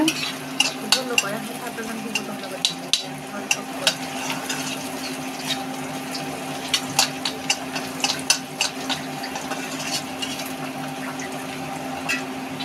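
Onion and garlic frying in a pan until they redden, a steady background sizzle broken by repeated sharp clacks and scrapes of stirring, close and fairly loud, with no talk.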